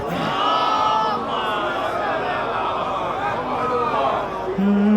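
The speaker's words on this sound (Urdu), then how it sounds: "آواز بلند نعرہ صلوات" At a devotional poetry gathering, a large audience loudly recites the salawat in unison, a steady swell of many voices that carries on for several seconds before a single voice cuts in at the end.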